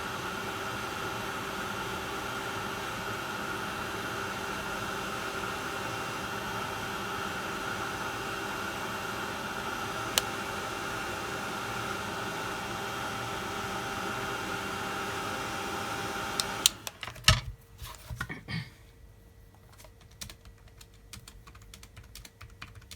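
A dryer blows air over freshly painted craft work, making a steady, even whooshing roar for most of the clip. It cuts off abruptly and is followed by a few faint clicks and handling knocks.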